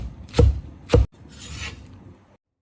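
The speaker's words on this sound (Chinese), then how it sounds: "一小把韭菜清洗干净， 切成长段。" A kitchen knife chopping a small bunch of washed chives into long pieces on a cutting board: two sharp, close knocks a half second apart, then a softer scraping rasp before silence.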